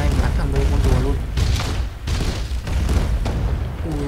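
Cannon fire in the Roblox game Pirate Clash, with repeated booming shots and bursts in a loud, busy battle mix, overlapping continuous game noise and some voice-like sounds throughout.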